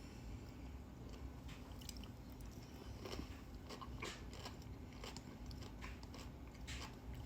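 Someone eats a chili crisp honey lime yogurt cucumber salad up close, faint wet crunching and chewing bites repeating irregularly over a low background hum.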